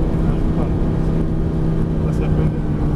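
Lamborghini Gallardo accelerating hard on the Lédenon race track, a loud, steady engine drone heard from inside the car with a droning low pitch, while a person speaks over it.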